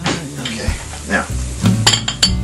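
Plantains frying in a pan, with a soft sizzle beneath clinks and scrapes as a spatula and spoon lift the pieces out, several close metallic taps in quick succession.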